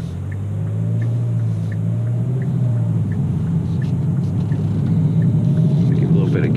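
A 2017 Kia Optima SX Limited pulling away, its low engine rumble building steadily inside the cabin with no pauses, and a voice talking briefly over it.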